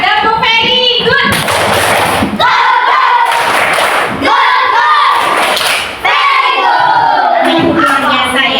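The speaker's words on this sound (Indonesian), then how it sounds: "kita berikan aplaus berupa tepuk very good untuk semua" A classroom of children performs a rhythmic chant-and-clap cheer together, loud group voices mixed with bursts of sharp clapping that continue through the whole stretch.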